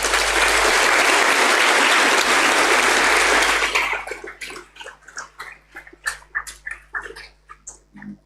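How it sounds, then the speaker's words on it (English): An audience at a university first-year address gives thick, sustained applause that holds steady for several seconds and then thins into scattered individual claps before fading. "Let us keep clapping for Professor Victoria until she is seated."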